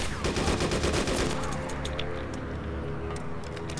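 Gunfire from STANAG rifle rounds in the video game DayZ: a dense, rapid automatic burst up close, thinning into scattered sharp shots.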